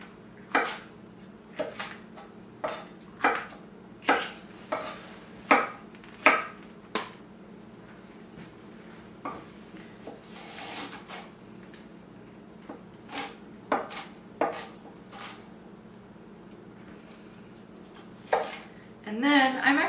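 Onion being cut into pieces with a knife on a board, a series of sharp close chops in quick bursts separated by pauses, with a voice talking quietly in between.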